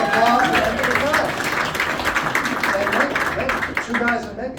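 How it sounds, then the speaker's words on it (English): An audience at a magic show in Nashville breaks into applause. Clapping swells and then thins over a few seconds while someone talks loudly over it near the microphone. "how about a big round of applause"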